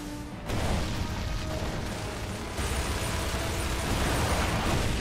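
A heavy explosion from an enemy in the video game Gears of War 2, with a dense, rumbling blast that jumps up sharply after a quiet start and stays loud with a mechanical, crashing roar.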